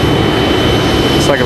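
A Frontier Airlines jet touches down at Raleigh-Durham airport with a loud, continuous engine roar and wind rumble, heard up close through the whole moment.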